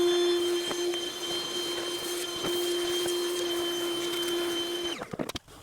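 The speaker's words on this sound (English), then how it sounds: "We'll vacuum all around the intake manifold" A shop vacuum runs steadily with a constant whine as it cleans around the intake manifold of a 3.5 EcoBoost Ford Flex's engine. Faint clicks sound throughout, and the motor cuts off near the end.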